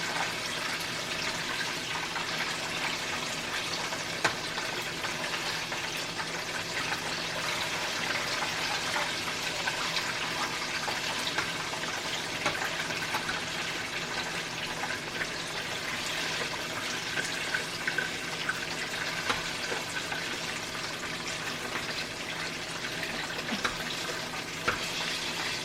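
Chicken frying in oil in a pot with the lid off, a steady dense broadband sizzle and crackle that holds at an even level throughout, with no talking.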